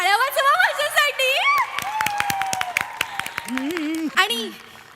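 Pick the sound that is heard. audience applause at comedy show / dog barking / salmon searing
audience applause at comedy show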